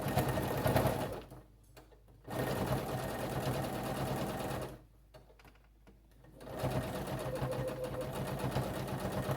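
A sewing machine back stitches an elastic seam on a fabric eye mask, running in three bursts of steady, close rattling whir separated by short pauses.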